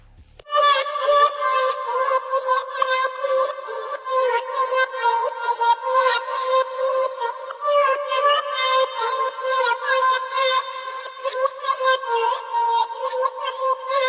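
A pitched-up vocal sample processed with a shaper box, reverb, EQ and OTT plays as a dense, bright, rhythmically pulsing texture with no low end, continuing steadily for about fourteen seconds without talk.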